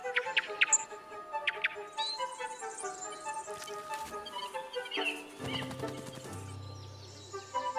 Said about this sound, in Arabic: تستوطن طيور القرقف الأزرق شقوق وتصدعات الفروع